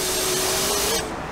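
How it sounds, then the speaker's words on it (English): Tar and glue remover sprayed from a bottle onto a car's paintwork during a professional detailing job, a steady close hiss lasting about a second before cutting off. "Go on, Josh, give it a squirt."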